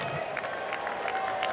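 A tennis crowd at the US Open roars during a second-round match between Ben Shelton and Roberto Bautista Agut, giving a short, continuous wash of cheering and applause with faint voices mixed in.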